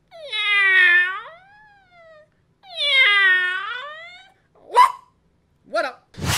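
A man imitates a cat's meow with two long, drawn-out vocal meows, loud and close, followed by a few short sharp sounds.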